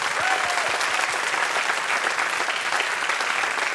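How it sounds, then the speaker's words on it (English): Steady round of applause from a live audience at a dance talk panel, dense and continuous clapping throughout with a brief voice briefly audible at the start. "We could give our panelists a round of applause."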